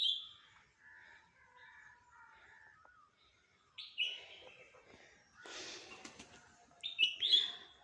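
Crow chicks call while being fed by a parent crow, giving thin, high begging cries and short chirps in scattered bursts, with a few sharper, louder calls near the end against a quiet background.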